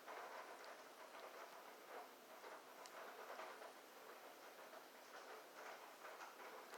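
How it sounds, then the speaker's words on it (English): Steady rain falls outdoors as a constant hiss of dense drops, loud and unbroken from start to finish, with no voices over it. "I hope you guys can't hear the rain over me"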